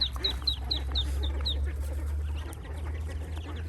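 Ducklings on a Thai duck farm peep in a quick run of high chirps, then scattered fainter peeps over a steady low hum of farm machinery.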